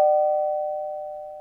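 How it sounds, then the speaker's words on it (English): A single electronic doorbell chime rings out and slowly fades, a clean sustained tone with nothing else around it. "She heard the doorbell ring"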